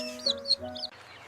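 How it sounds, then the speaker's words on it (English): A duck quacks in a short bright burst of three or four nasal calls close by, then stops, leaving a faint low background hum. "A duck is a swimming bird with webbed feet and waterproof feathers that says quack quack."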